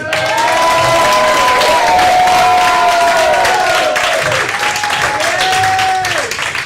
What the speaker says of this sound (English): The big round of applause for Mr. Mike Hughes.